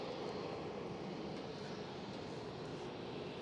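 An airplane moves on the ground at Cologne Bonn Airport, producing a steady, even engine roar that holds at the same level the whole time with no voices over it.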